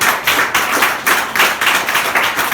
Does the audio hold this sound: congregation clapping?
yes